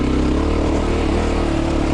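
A Zongshen CSC RX3 Cyclone motorcycle runs along an off-road trail, its engine droning steadily and close with a constant rumble and no pause in sound.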